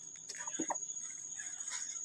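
A few soft chicken clucks, fairly close, over a faint steady high-pitched background hiss.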